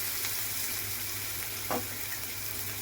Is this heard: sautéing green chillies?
yes